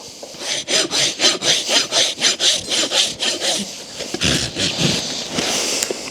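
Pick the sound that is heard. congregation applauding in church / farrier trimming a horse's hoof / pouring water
farrier trimming a horse's hoof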